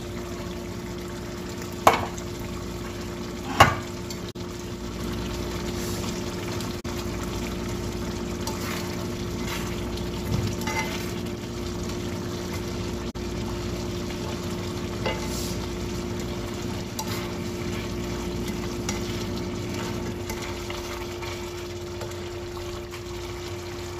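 Vegetables for pancit bihon stir-fried in a pan, a steady soft sizzle with a couple of sharp utensil knocks early on and quiet scraping stirs throughout, close and without talk.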